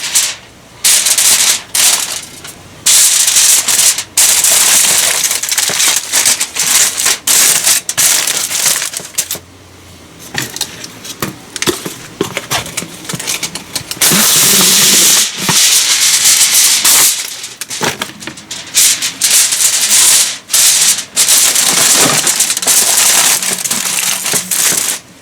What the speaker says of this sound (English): We're going to wrap it up and stick it in the oven.